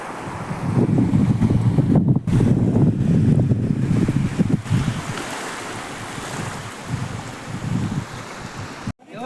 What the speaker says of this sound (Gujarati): અત્યારે તો જો એવો પવન ઠંડો મસ્ત મજાનો આવે છે